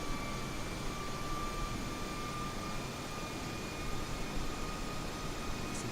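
Airbus A321 engines idling before takeoff in Microsoft Flight Simulator 2020, a dense, even jet rumble and hiss with faint steady whining tones over it, no voices.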